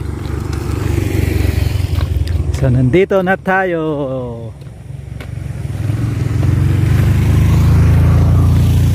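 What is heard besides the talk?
motorcycle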